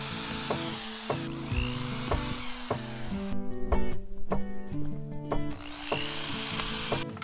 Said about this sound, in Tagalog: nagpa-pilot hole para mas madaling itusok yung ating gypsum screw